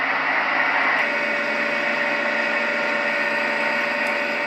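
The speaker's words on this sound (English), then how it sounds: "Sounds more like a dryer to me." Steady, even whooshing hiss from a fan setting on a Roffie white noise sound machine, a noisier fan tone much like a running clothes dryer, continuous and close with no talking.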